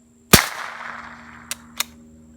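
A suppressed Rugged Obsidian 45 pistol fires a single round into dirt, a sharp close crack with a short decaying tail, followed by two faint ticks of impact or debris.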